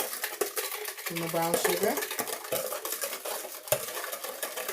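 A spoon scrapes and clinks steadily through banana nut bread batter in a bowl, with close rhythmic stirring and a few sharper taps. A person speaks briefly over the mixing.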